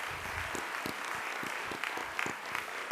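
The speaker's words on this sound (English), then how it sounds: "A round of applause for them" Light, scattered clapping from a small audience at an investiture ceremony, with individual hand claps standing out against a quiet room.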